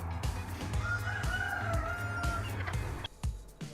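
Guinea fowl hen calling on a farm, loud harsh repeated cries in a steady run near the listener, with other fowl sounds around them.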